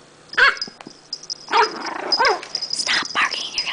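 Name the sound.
small dog barking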